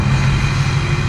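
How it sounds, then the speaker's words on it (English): A car engine runs with a deep, steady rumble at a street rod event, loud and close, held for about a second with no talk. "This guy revved his engine at us."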